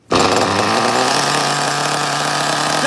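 A Kyosho GT1 RC car's nitro engine fires up abruptly and holds a loud, steady, high-pitched buzzing whine, running close to the microphone for a few seconds without any talk.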